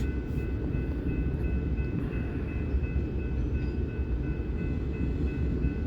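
A northbound freight with a Warbonnet locomotive in its lead power rolls along a single-track main line, producing a steady, heavy low rumble with faint tonal whines above it.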